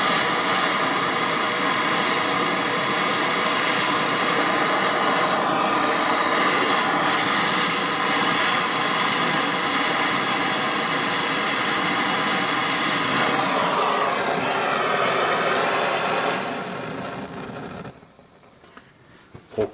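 A 1900 Celsius torch flame heats a stuck bolt with a loud, continuous roaring hiss held steady for about seventeen seconds before it tapers off, close and with no talking.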